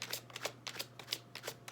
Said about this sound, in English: I just have the Rider-Waite Tarot here to shuffle and get the cards from